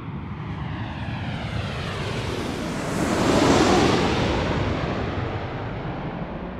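Boeing 777 jet engines roaring at Raleigh-Durham airport: a steady broadband rumble that swells to a peak around the middle and then eases slightly, loud and continuous, with no voices.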